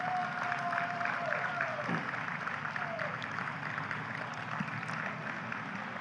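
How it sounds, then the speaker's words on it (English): Steady audience applause at a community gathering in Chattanooga, a moderate, even clatter of clapping that runs throughout, with a voice briefly audible near the start. "Round of applause."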